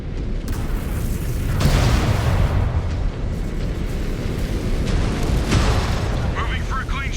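Missile impact in the MechWarrior game: a dense, sustained rumbling blast with a sharper burst near the middle, loud and continuous throughout, with game radio chatter mixed in.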